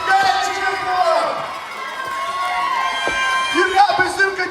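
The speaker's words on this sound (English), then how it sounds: "He gets mad cheering for him." A pro wrestling arena crowd cheers and shouts loudly and steadily for the fan-favourite wrestler Bazooka Joe as he works the crowd, with whoops and yells rising over a continuous roar.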